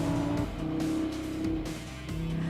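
An Audi R8 Spider driven fast on a track, its engine note loud and close with steady harmonic tones shifting as it changes gear, a brief tyre squeal under the sustained roar.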